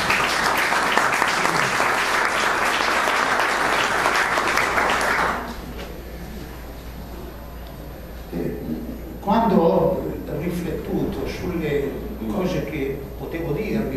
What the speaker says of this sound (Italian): Credo meriti un applauso